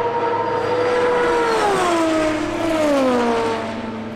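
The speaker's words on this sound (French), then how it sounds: "le bruit de cette voiture est exceptionnel." A hypercar engine roars loudly and steadily, its pitch sweeping down and then holding as the car passes close and continuous, with no voices.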